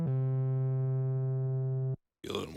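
Donner B1 synthesizer with distortion switched on holds one buzzy, harmonic-rich note for about two seconds, then cuts to silence before a short gritty burst.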